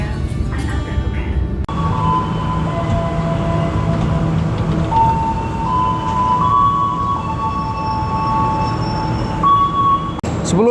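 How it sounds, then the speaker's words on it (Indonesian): The Ranggajati economy train pulls into Kutoarjo station, its loud continuous rumble heard from inside the car with long tonal brake squeals ringing over it and a station announcement voice audible. "kereta api Ranggajati sudah tiba di stasiun Kutoarjo"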